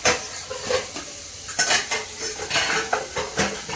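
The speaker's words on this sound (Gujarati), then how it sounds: "વાસણ ધોતા" Dishes and cutlery clatter and clink close by during washing, with repeated knocks and scrapes and no voices.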